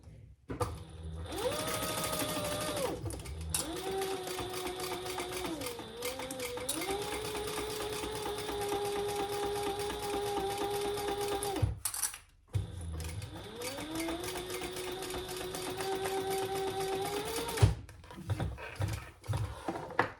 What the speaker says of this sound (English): we're going to sew that together with the seam allowance in the pattern